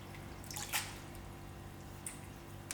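Herbs being rinsed by lifting them gently from one big dish of water into another, giving soft intermittent drips and light splashes against a faint steady background, with no talking.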